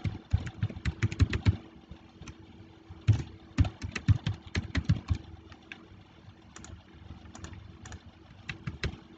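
Typing on a computer keyboard while filling in an online form, quick clusters of clicky keystrokes with short pauses between bursts, close and fairly quiet, no speech.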